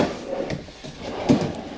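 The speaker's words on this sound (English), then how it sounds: "Nice size drawers over there." Soft-close kitchen drawers in a 2025 Forest River Cardinal 33CHEF RV slide and bump shut, two quiet muffled knocks over a short stretch of room noise.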